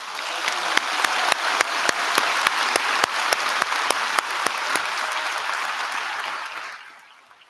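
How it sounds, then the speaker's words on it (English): An audience at a graduation ceremony claps steadily for several seconds, a dense wash of applause with a few sharper claps standing out, before it tapers off at the end. "And we'll have some applause there."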